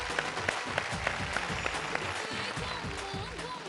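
An audience on a Telugu TV game show applauds in a studio with a steady wash of clapping that stays fairly even throughout, and voices can be heard talking over it.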